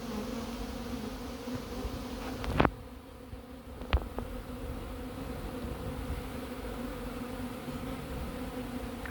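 Hornets buzzing around a beehive at an apiary, a steady dense drone of wings near the listener with a couple of sharp knocks.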